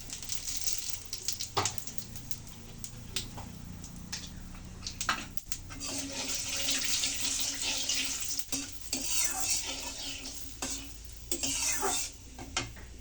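Dried red chillies and radhuni seeds frying in oil in a pan, a steady close crackling sizzle with occasional spoon stirs and clinks against the pot, no voices.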